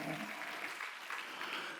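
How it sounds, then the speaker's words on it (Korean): A church congregation at a Korean Sunday worship service applauds together, a dense, sustained wave of clapping that stays fairly even and moderately loud for about two seconds. "박수야."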